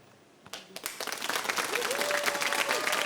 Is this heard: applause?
yes